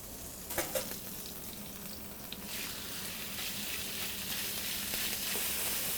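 Chili and garlic sizzle in hot oil or butter in a pan, a steady close crackling hiss with a few stirring clicks near the start, loud and unbroken with no talk.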